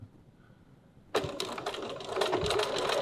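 A sewing machine stitching a pouch seam at a 2.4 stitch length, starting abruptly after a quiet moment and then running as a fast, close, rattling burst of needle strokes.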